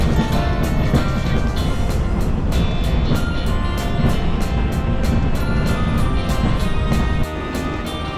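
A train in Taiwan, heading to Taipei, rumbles along continuously from inside a carriage, with steady loud roar and rhythmic clacking, easing slightly near the end.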